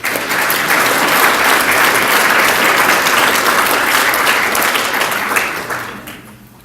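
A lecture audience gives a warm round of applause to welcome a speaker at an evening talk on preventing burnout, with loud, dense clapping from a full room that holds steady and then fades out.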